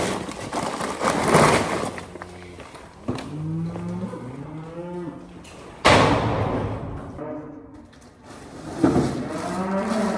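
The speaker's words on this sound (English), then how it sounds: "And some more cows found us." Cattle moo repeatedly on a winter farm while feed cake bags are unloaded from a truck, several drawn-out calls from nearby animals with a thump or two of a tailgate between them.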